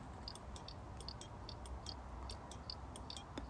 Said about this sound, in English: that is the sound of the indicators coming through into your ears.